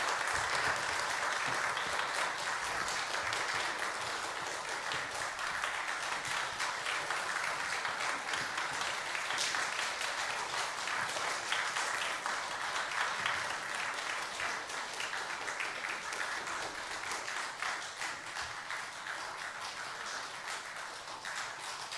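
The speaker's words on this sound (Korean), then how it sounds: "다 들어가실 때까지 큰 박수로 하나님께 영광 돌립니다." A large church congregation claps enthusiastically for a long stretch, dense and steady applause that tapers only slightly toward the end.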